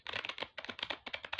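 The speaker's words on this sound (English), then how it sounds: "I'm going to shuffle one more time" Tarot cards are shuffled by hand in quick, rapid bursts of crisp riffling clicks, close and fairly loud with short pauses between runs.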